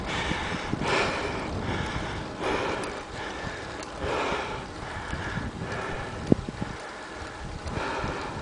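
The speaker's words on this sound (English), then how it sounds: "Here's a little headwind that'll help take that out of here." Headwind buffets a microphone on a long bicycle ride, a steady rushing roar that swells in repeated gusts every second or so, with no talk.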